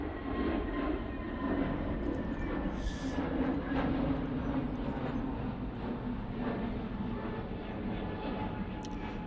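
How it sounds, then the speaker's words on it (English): An EasyJet Airbus A320neo jet departing Manchester Airport, a steady broad engine roar rumbling from a distance for the whole stretch, with no speech. "Easyjet departing there."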